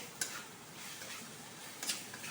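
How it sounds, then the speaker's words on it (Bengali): Spice masala frying in ghee with a little sugar in a pan, giving a soft, steady sizzle under faint scraping and stirring, with a couple of light utensil clicks against the pan. "কষিয়ে নেব আর কি, মশলাটা ভেজে নেব।"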